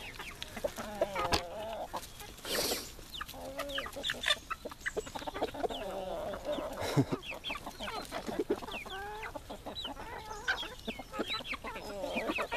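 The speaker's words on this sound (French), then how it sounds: "Voilà des poules qui bouffent de la pizza." Several chickens cluck and squawk in quick, overlapping bursts nearby, busy and excited, with a few louder calls standing out.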